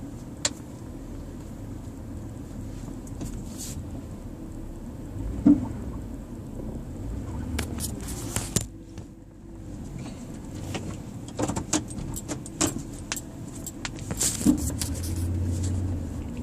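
Car being driven, heard from inside the cabin as a steady low road and engine rumble with scattered clicks and knocks from the interior, no talk.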